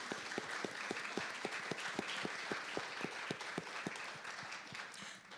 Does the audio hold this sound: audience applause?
yes